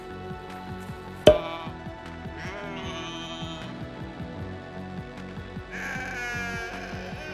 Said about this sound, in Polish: Muszę przyznać, że moje owce kameruńskie mają dużo bardziej męskie głosy niż y, te świniarko kamienieckie.